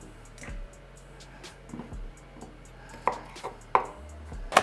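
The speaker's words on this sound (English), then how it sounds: "I'm cutting off the end that has, I guess, where it was attached" A knife chops off the ends of a cucumber on a cutting board, making several soft, close thunks and taps spaced irregularly against a quiet background.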